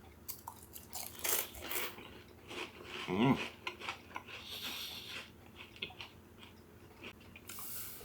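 Freeze-dried spring rolls being chewed close up, crunchy like potato chips, with a series of crisp bites and crunches in irregular bursts.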